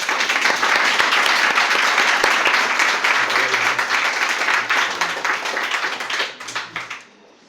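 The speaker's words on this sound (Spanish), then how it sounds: "vamos a recibirlo con un aplauso" Audience at a talk on creativity and inspiration applauding to welcome the speaker: dense, loud, steady clapping for several seconds that thins out into a few scattered claps and stops.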